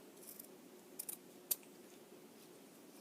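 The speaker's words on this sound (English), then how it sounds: "then you're going to cut these in half" Scissors snip through material for a puffy cupcake craft, giving a few quiet, close cuts, a small cluster followed by one sharper snip, against a soft hiss with no talking.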